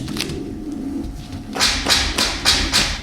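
A pigeon-like bird coos and flutters close by with a run of soft, breathy pulses, rising into several louder rhythmic bursts in the second half, alone without talk.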